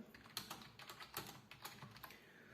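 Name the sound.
typing on a wireless keyboard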